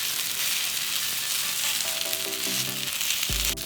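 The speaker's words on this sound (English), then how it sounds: "Cook while spinning. When turning, push the protruding butter down and turn it." Takoyaki in a butter-greased takoyaki pan hiss and sizzle loudly and steadily as they are turned, with faint metallic pick taps and a brief clunk near the end.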